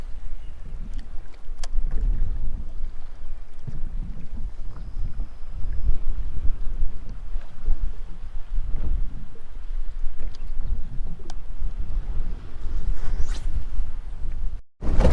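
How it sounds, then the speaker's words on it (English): Strong wind buffets a kayak out on a bay with swells, producing continuous rumbling gusts and scattered splashes and knocks of water against the hull, with no talking. "we're taking some decent swells on for a kayak"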